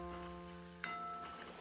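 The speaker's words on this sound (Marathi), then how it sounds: "त्याला तडकाच म्हणतात ना," Tadka tempering for Maharashtrian amti fries in a pan with a soft, steady sizzle under a faint hum, interrupted midway by a single sharp clink.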